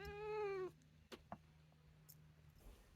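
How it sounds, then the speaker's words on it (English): A domestic cat lets out a single loud, drawn-out meow up close, followed by a few faint soft noises in a quiet room. "there's my cat"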